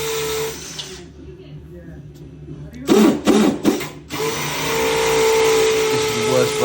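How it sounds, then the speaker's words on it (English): A drill bores holes for radiator brackets, whining in a sustained run, stopping, then starting again, with someone speaking briefly in between the bursts. "First I start drilling, mark the holes for the brackets"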